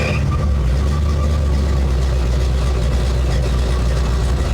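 A 1970 Ford Falcon engine idling just after firing up on leftover fuel vapors, a loud, steady, low rumble close by, with no talk.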